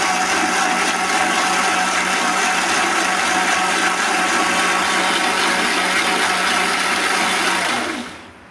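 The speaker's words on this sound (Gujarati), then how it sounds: "સ્ટેપ 2માં મિક્સરને આપણે ક્રશ કરી દેવાનું" A kitchen mixer grinder runs loud and steady, crushing tomato, onion and garlic for a chutney, then winds down abruptly at the end.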